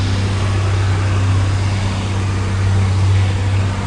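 A John Deere 4440 tractor driving down a rural road, its engine a steady low drone with strong low-end rumble, continuous and fairly loud throughout with no voices.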